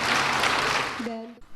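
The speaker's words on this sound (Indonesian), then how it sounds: "Boleh tepuk tangan sekali lagi Bapak Ibu sekalian." Applause from an audience at the inauguration of a large convention building in Jakarta, a loud steady wash of clapping that fades near the end as a voice speaks briefly over it.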